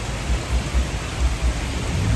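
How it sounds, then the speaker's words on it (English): Heavy rain pours down steadily before a football match in Khlong Toei, Bangkok, a dense continuous wash of noise with low rumbling swells. "And then it started pouring rain"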